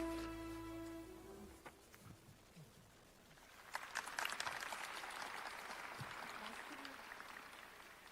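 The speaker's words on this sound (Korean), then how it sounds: "큰 박수로 환영해 주시기 바랍니다." A crowd at the People Power Party's campaign launch for Yoon Suk-yeol's election committee breaks into applause after a voice and tones fade. The clapping is broad and fairly distant, swelling midway and then holding steady.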